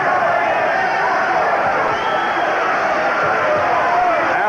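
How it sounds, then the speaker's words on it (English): A large boxing arena crowd roars and cheers as a fight ends, a dense, loud, sustained wash of voices with commentary talk running over it. "And the crowd responding to the finish."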